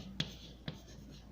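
Pen strokes on paper in a chemistry lab, a few soft, separate scratchy taps spaced out at irregular intervals, close and quiet.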